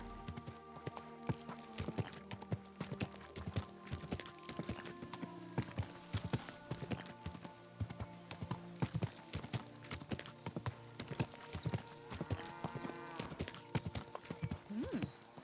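Horse hooves clip-clop steadily at a walking pace in the video game Kingdom Come: Deliverance II, with a steady rhythm of knocks over a low ambient hum and a brief whinny-like tone.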